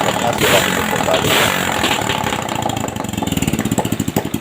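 Motorcycle engine running again after repairing a sudden breakdown, a loud close idle that settles into a steady, rapid chugging rhythm, with a person talking over it at the start.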